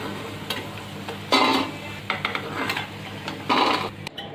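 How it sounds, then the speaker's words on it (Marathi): Bhaji deep-frying in hot oil over a medium gas flame, a steady close sizzle broken by a few louder bursts of bubbling and the clink of a utensil against the pan, with no talking. "म्हणून मीडियम गॅसवरतीच हे तळून घ्यायची भजी"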